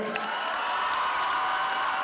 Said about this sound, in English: Let's give them a hand right here.